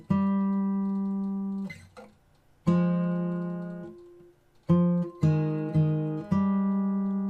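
Single plucked notes and paired open strings ring out on an acoustic guitar playing a fingerstyle passage of a piece, slow and deliberate with gaps and sustained decays, no voice.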